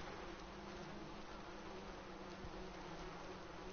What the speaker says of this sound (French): Pourquoi est-ce qu'il y a plein de mouches?